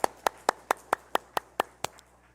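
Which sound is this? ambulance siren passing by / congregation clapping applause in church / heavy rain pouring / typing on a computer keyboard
congregation clapping applause in church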